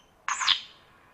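A single short bird call played from a portable bird-call test speaker with a rechargeable 1000 mAh battery, one bright chirp-like burst lasting under a second, fairly loud against a quiet background.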